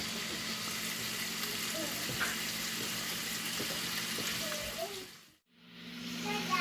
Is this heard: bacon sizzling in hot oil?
yes